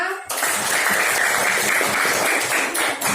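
An audience applauds a discussion group in a classroom presentation, a sustained, even burst of clapping from many people that starts suddenly and holds for a few seconds.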